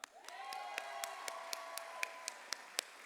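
Scattered, fairly evenly spaced hand claps ring out faintly at a Harvard College Class of 2021 Class Day dinner, with a sustained tone running beneath them.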